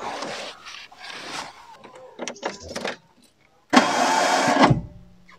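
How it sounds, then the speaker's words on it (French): A Renault Super 5 starter motor stuck engaged: a loud, steady electric whir that starts abruptly and runs for about a second before cutting out, following muffled handling noises and a voice. "Ah bah le démarreur est collé"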